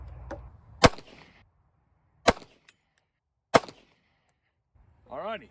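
Three sharp, loud pistol shots from a CZ P07 firing 115 grain hollow point rounds, spaced over a second apart outdoors, with a brief voice at the end.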